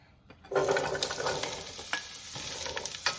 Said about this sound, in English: I have some olive oil here, heating over medium low. And I'm gonna add in my zucchini